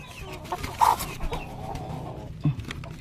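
Native chicken hens cluck nearby on a farm, with a couple of short, distinct clucks over a soft background of rustling and low ambient noise.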